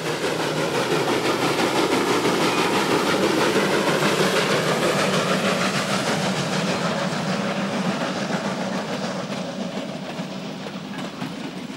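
A Polish TY2 Kriegslok steam locomotive hauls a mostly empty local passenger train, rumbling loudly and steadily nearby with a rhythmic clatter of wheels and a continuous roar that fades slightly toward the end.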